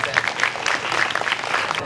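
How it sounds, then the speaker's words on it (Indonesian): A school audience at a junior high traffic-safety assembly breaks into brief, dense applause, a close crackle of many hands under a voice speaking over it. "Tepuk tangan buat SMP Negeri Kabupaten."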